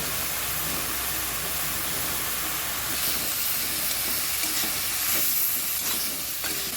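Coconut paste and chilli paste being stirred in a frying pan, a loud continuous hissing sizzle with occasional scraping and clatter, no voices.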